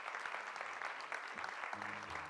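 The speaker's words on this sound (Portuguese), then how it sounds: "eu pedia que vocês dessem uma salva de palmas ao Carlos" Brief, faint applause from an audience at the Regenerar 2026 event in Portugal, a soft patter of clapping with a low hum underneath.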